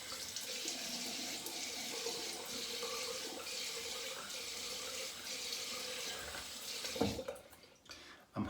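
Steady hiss of tap water running into a sink for a cold face rinse after a traditional wet shave, continuous and close for most of the clip, then cutting off near the end with a few brief splashes.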